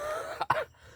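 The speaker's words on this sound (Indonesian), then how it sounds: "Saya batuk guys." One short, abrupt cough, close to the microphone, over a faint steady hum.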